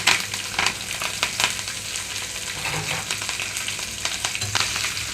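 Mustard seeds, dry red chillies, green chillies, curry leaves and ginger sizzle and crackle steadily in hot oil, with scattered sharp pops and spatters close by, alone without talk.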